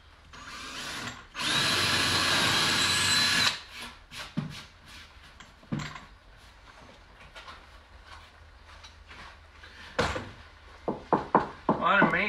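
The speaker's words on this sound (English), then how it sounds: "I want to put a couple screws in here." A power drill drives screws into wood for a craft table build, one sustained whirring run of about two seconds followed by shorter bursts, knocks and handling sounds, close and fairly loud.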